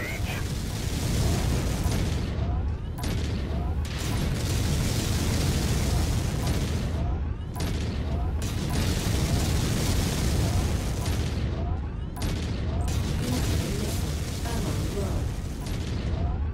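PPC weapon fire and explosions in a mech combat video game roll on as a continuous loud wall of booms and blasts, with muffled talk buried beneath.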